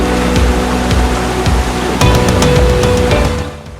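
Gaumukh waterfall in Songadh during the monsoon rushes in a steady, loud roar of falling water, close by and continuous, with a few faint knocks mixed in.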